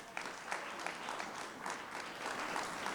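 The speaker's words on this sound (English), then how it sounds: "Come on, let's give a round of applause." Crowd of listeners clapping in a round of applause at a community event, an even, moderately distant patter of many hands held steady throughout, quiet overall.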